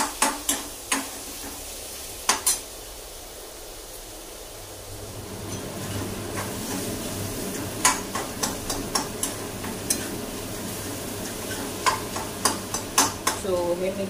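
Spices with asafoetida are stirred in a frying pan, a metal spoon scraping and clicking against the pan in repeated strokes over a soft sizzle, close and moderately loud.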